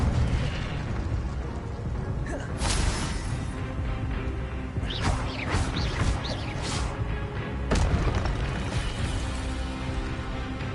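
Fiery spell bursts in the Hogwarts Legacy video game: several sharp blasts and crackling flares at irregular intervals over a steady rumbling game backdrop, fairly loud and up close.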